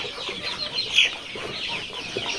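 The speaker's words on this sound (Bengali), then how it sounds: "এখানে ফার্মি মুরগি রয়েছে 1 মাস বয়সের" One-month-old broiler farm chickens cluck in a dense, continuous chorus at a poultry farm, with one brief sharper call standing out over the steady flock noise.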